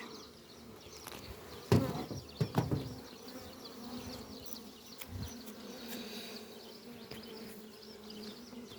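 Dense honeybee buzzing hums steadily around a hive, with a few sharp knocks and bumps early on.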